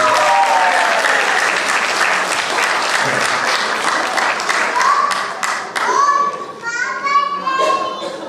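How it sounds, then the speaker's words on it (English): Loud, sustained audience applause honoring a first grade class at a school math event, dense clapping mixed with children's shouts and excited voices, swelling and thinning toward the end. "let's give one more big round of applause for our first grade."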